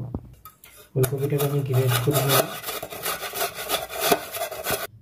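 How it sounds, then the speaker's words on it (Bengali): Peeled kohlrabi is rubbed against a kitchen grater in quick scraping strokes, a rasping rhythm that starts after a short pause and continues close up. "এবারে ওলকপিটাকে আমি একটু গ্রেট করে নেব।"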